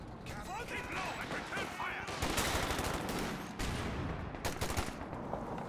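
Game battle in Company of Heroes 2 with a .50 cal machine gun firing, sustained rattling bursts and heavy gunfire layered over a dense battlefield din.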